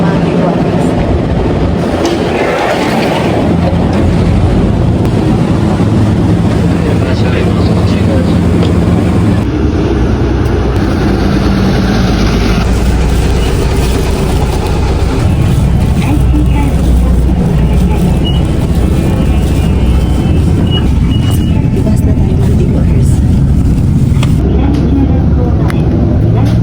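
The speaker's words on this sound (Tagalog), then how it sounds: "So, andito na yung train." Train in Japan pulling in and then riding, a loud continuous rumble and rattle with shifting tones, while a person talks over it.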